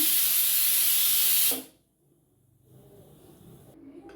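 Loud steady hiss of steam venting from a pressure cooker cooking green chicken biryani, cutting off abruptly partway through, followed by quiet kitchen background.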